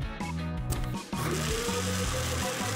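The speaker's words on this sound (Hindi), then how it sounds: "वाह, ग्राइंडर काम कर रहा है।" Electric coffee grinder grinding arabica coffee beans to a coarse grind, a steady close whirring motor with music or other sound layered over it.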